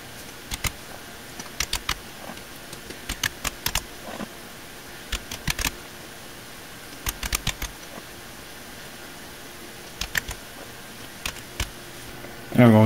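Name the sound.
typing a product key on a computer keyboard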